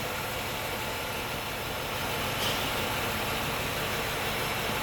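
Engine of a 1995 Cadillac Fleetwood Brougham, its LT1 350 V8 idling in the engine bay, a steady low hum under a constant broadband hiss, heard alone without speech.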